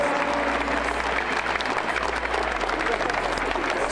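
A stadium crowd applauds in a farewell tribute to a football club president, a dense continuous roar of clapping filling the whole stretch at steady loudness.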